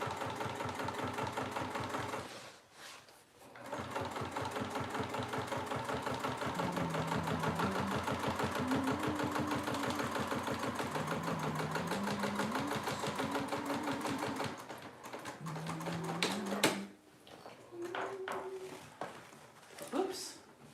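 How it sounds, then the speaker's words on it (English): A sewing machine top stitching along the bottom edge of fabric, running in a steady fast whir for long stretches with brief pauses, under someone talking. "I'm top stitching along the bottom before we stitch up the sides"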